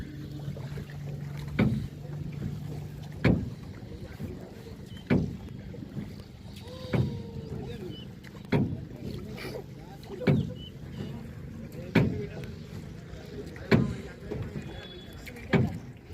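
A boat glides across a lotus pond with rhythmic paddle strokes knocking and splashing roughly every two seconds, close by, over wind noise and soft background voices.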